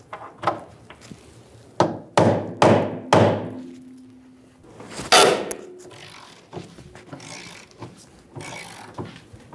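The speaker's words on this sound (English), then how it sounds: "Using an 18mm socket, we're going to loosen the nut for the eccentric bolt." An 18mm socket wrench works on the eccentric bolt nut on the rear suspension of a 2000-2007 Ford Focus, giving a series of sharp metallic knocks and clunks spaced irregularly, some loud and close, with quieter taps between.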